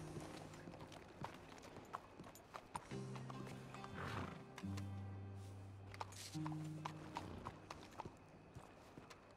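Horses in Red Dead Redemption 2 whinny and neigh in drawn-out calls over a steady clip-clop of hooves, close and fairly loud against a busy outdoor game backdrop.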